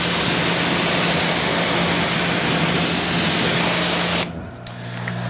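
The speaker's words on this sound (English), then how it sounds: "I'm running about 1200 PSI here on my on-wall Krenzel pressure washer" A wall-mounted Krenzel pressure washer running at about 1200 PSI through a 40-degree nozzle sprays a car wheel, a loud, steady hiss that holds for about four seconds and then cuts off abruptly to quiet.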